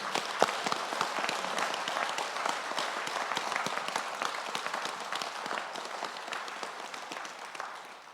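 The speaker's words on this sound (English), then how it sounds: "Let's applaud each of them" Applause at a high school valedictory ceremony, many hands clapping in a sustained, fairly even crackle from a crowd, lasting several seconds and fading slightly toward the end.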